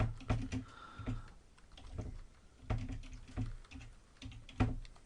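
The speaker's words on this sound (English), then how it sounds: "Are you typing faster than me?" Someone types on a computer keyboard in a podcast setting: quick, irregular clusters of soft key clicks with occasional heavier thumps of keys, fairly close and steady, with nobody talking.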